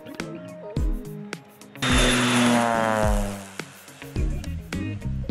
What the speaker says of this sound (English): aerial crop dusting planes cover vast fields with precision and speed